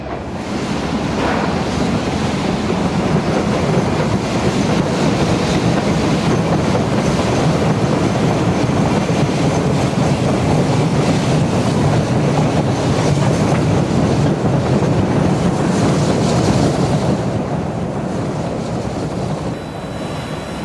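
An Amtrak train rumbles along the tracks in a loud, continuous roar that stays steady for the whole stretch, with wind-like rushing noise blended in and no voices.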